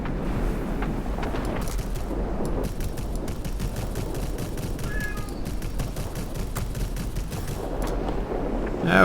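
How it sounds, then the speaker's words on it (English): Rapid machine-gun bursts from a P.228 aircraft in World of Warplanes rattle on continuously as dense, loud fire over a rumbling engine, with brief pauses between strings of shots. "I overheated my guns."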